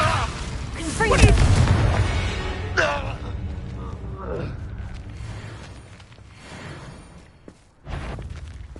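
A Confringo blasting spell explosion in Hogwarts Legacy, a loud booming burst near the start followed by a decaying rumble, with a character's voice speaking over the game sounds.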